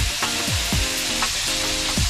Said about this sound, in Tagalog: Halu-haluin lang hanggang sa maluto na yung atay.